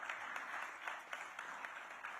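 An audience at a ceremony launching the FIH Hockey Men's Junior World Cup in Chennai gives steady, moderately distant applause that carries on evenly throughout.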